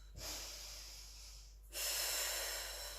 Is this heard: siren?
no